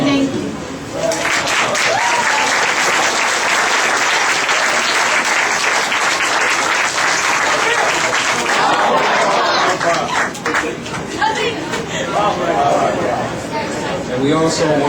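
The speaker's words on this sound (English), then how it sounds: "let's give him another round of applause" A large audience at a Patriotism Day celebration claps steadily for the full stretch, dense and loud, with cheers and voices rising out of the applause.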